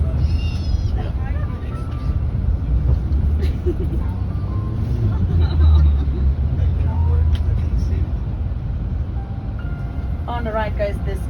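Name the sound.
cars in street traffic during Paris bus tour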